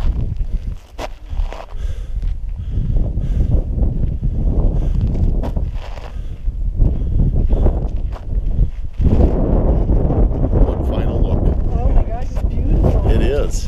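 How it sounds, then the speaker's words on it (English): Strong wind gusts batter the microphone along a hiking trail in Utah's Devil's Garden, a loud buffeting roar that surges and eases throughout, with footsteps and occasional speech mixed in. "Can't believe how windy it is though today."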